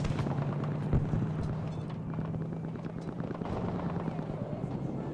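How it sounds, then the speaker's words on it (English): An enemy tank in the video game Battlefield V, a steady heavy engine rumble filling the battlefield, with sharp bursts that sound like gunfire. "That is not a friendly tank that I'm hearing."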